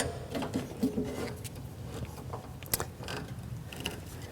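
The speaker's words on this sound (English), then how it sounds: "You can start this one by finger and then tighten it down with the Allen wrench." An Allen wrench tightens a bolt on a wheel kit for a Laguna Tools 14CX bandsaw, giving a quiet series of small metallic clicks and ratcheting ticks at close range.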